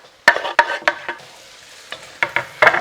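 Garlic hits a hot pan with onion, bringing a loud sizzle and clattering utensil strokes in quick, irregular bursts over a quieter frying hiss.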